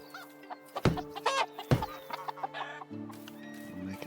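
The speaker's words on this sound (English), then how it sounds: "Sounds like I'm pissing the chickens off." Chickens cluck and squawk in a loud, agitated burst of several sharp calls, near and scattered over a low steady hum.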